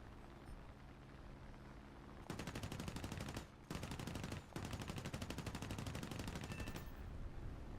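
Aircraft guns in War Thunder rattle in two rapid sustained bursts, the first briefly broken off then resumed, dense and loud over a quieter engine drone, no talking.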